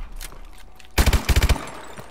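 Gunfire from a weapon in Call of Duty: Advanced Warfare: after a second of quiet, two quick loud shots, a brief pause, then a rapid string of about five close, punchy shots, ending in a fading tail.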